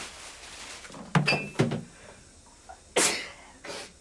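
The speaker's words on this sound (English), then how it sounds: "I'm allergic to dust, so I will be sneezing and things like that." A person sneezes from dust while clearing out clutter indoors: a couple of short sharp bursts close by, followed a moment later by a louder sneeze and a fainter one, set against a quiet room.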